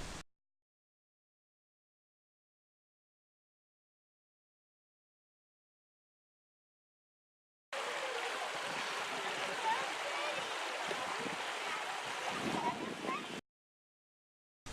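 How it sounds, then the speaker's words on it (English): A creek flowing into a lake, its steady broadband rush of water filling several seconds after a stretch of near silence, then cutting off abruptly. "We arrive back at our starting point, the creek that fills the lake."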